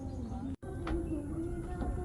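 Birds call faintly at a quiet farm resort in Antipolo, soft coos and chirps drifting over a steady low background hum, with one brief dropout partway through.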